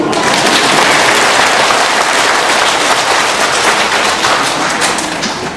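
Loud, sustained applause from a church congregation at Christmas Midnight Mass, steady clapping filling the whole stretch and tapering slightly at the end.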